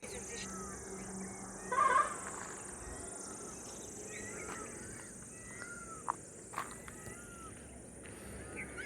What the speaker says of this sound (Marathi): ऐकला का मोराचा आवाज